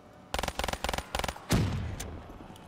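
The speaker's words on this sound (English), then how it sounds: "it takes three bursts from this gun" Four quick bursts of rapid video-game gunfire in an even rhythm, each a tight cluster of sharp shots, followed by a single heavier boom that rings out and fades.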